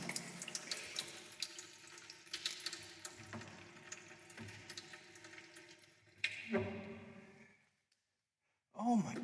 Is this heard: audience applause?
no